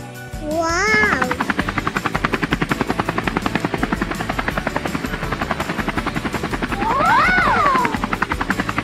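Cartoon helicopter with a steady, loud rotor chop pulsing evenly throughout, plus bright rising and falling whistling tones at the start and again near the end over the continuous thumping.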